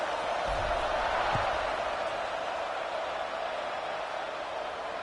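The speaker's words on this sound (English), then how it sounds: "this crowd is buzzing after that last score" Steady crowd roar filling the stands at a college football game, a broad continuous buzz after a score with a few faint thumps beneath it, no clear voices standing out.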